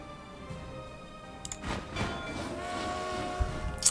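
Train transport in the video game Panzer Corps 2, a game rail sound with a horn-like tone and rolling wagon clatter, moderately loud over a steady background.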